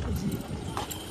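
A horse's hooves clip-clop at a busy fair in Maharashtra, a few quick hollow steps heard close up amid crowd chatter and voices.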